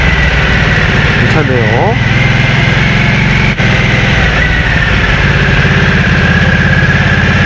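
A Harley-Davidson Nightster motorcycle idles close by with a steady, deep, low muffler rumble that runs throughout, and someone speaks briefly over it.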